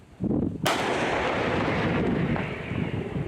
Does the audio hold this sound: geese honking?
no